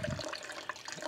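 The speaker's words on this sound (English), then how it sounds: "basically I take about 8 ounces of water" Water is poured from about eight ounces' worth into a shaker bottle over ice for cold coffee, a close, brief splashing trickle with no talking.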